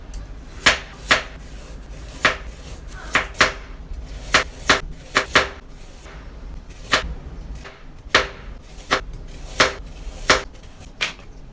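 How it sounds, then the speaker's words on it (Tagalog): Knife slicing peeled carrots thinly on a cutting board, sharp repeated chops landing in loose, uneven bursts, close and distinct without any talking. "ito naman mga carrots ang aking hihiwain, binalatan at hiniwa ko na rin ito ng maninipis"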